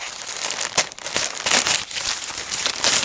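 A package being opened during an unboxing, with steady crinkling and crumpling of plastic or paper wrapping, close and fairly loud, in a few bursts with no talk.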